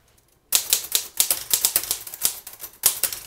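Keys clacking on a 1920s–30s manual typewriter with paper loaded in the platen, starting after a brief silence: a close, loud run of uneven sharp strikes in bursts with short gaps.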